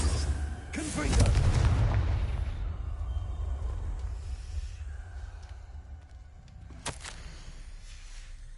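A Confringo fire spell blasts in Hogwarts Legacy, a broadband boom near the start that rumbles and decays over several seconds, with a second sharper crack later amid ambient game noise.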